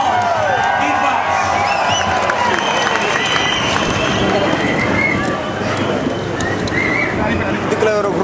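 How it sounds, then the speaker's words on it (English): Large outdoor crowd applauding and cheering at a political rally outside Parliament for British Tamil community, a dense, steady roar of claps and voices filling the whole stretch at close range. "Let us give him a round of applause"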